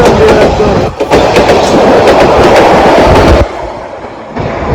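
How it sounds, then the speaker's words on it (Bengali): A train rolls out of a station with loud rumbling and clickety-clack of the wheels on the rails, then the noise drops off sharply near the end as the cars pass. "আমাদের ট্রেনটি ছেড়ে দিচ্ছে"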